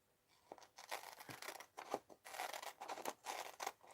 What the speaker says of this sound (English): then I'm going to cut the sign out